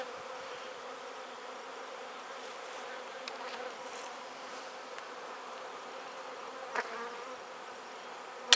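Honeybees around several active beehives hum in a steady, dense buzz that fills the whole stretch, with a few brief louder passes of single bees flying close by.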